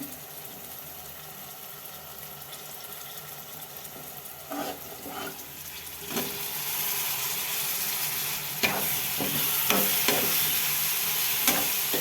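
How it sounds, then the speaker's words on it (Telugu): Pieces of drumstick curry cook in a pan with a soft, steady sizzle, broken by several distinct scraping stir strokes in the second half; fairly quiet and close. "ములక్కాడేసి వండుతున్నాను"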